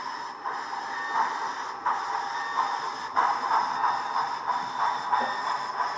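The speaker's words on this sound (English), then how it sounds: "push this train through the ladder here at XB" A model train is pushed through a powered yard ladder of switches and frogs, giving a steady close whir with periodic light clicks as the wheels cross the track joints; no one speaks.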